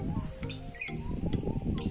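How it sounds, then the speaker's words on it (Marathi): Many birds chirp and tweet beside a green meadow and stream near a hillside lake, several quick high calls overlapping in a short, fairly close burst. "असंख्य पक्ष्यांचा आवाज, त्यांची किलबिलाट"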